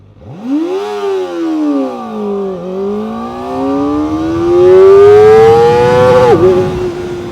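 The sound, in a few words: Kawasaki ZX-4RR motorcycle engine revving at high RPM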